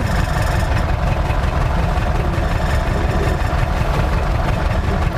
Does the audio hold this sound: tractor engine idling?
yes